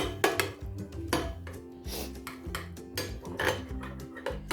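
Spoon clinking and scraping against a bowl while sauce ingredients and black pepper powder are mixed for a crispy fried chicken sandwich, a steady rhythmic series of close taps and scrapes.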